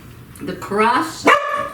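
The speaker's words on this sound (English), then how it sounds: "my dog thinks it smells good too, Brownie." Brownie, a pet dog, lets out a couple of short barks and yips in a home kitchen, close and loud, with a person's voice mixed in.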